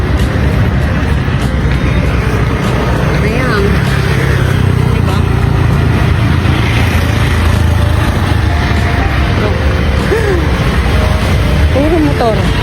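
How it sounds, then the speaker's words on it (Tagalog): Motorcycle traffic on a street in the Maldives, a continuous close engine drone with passing scooter revs rising and falling, while a person briefly speaks over it. "As in, puro motor yung ginagamit nila dito saan."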